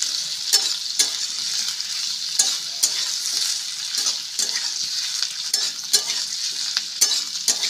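Onions and capsicum stir-frying on high heat for egg chilli, a bright, continuous sizzle punctuated by regular scraping strokes of a spatula in the pan, close and fairly loud.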